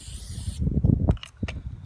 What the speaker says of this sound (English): spray oil works really nicely.